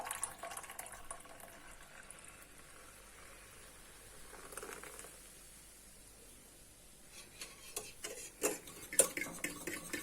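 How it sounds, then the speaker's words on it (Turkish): A bottle of mineral water is poured into a whisked sauce for a potato rose börek, with a soft, steady liquid splash followed by clinking stirring in a bowl that grows louder toward the end. "Ve son olarak içerisine şöyle bir şişe maden suyu ekliyorum."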